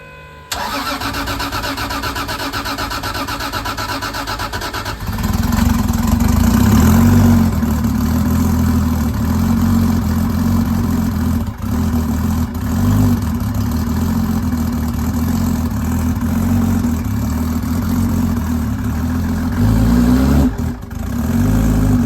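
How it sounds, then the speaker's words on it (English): A Chevrolet Camaro under rebuild, checked after possible water damage, cranks and catches around five seconds in, then settles into a loud, steady rumbling idle with brief revs, close up and without talk. "I guess start up the engine."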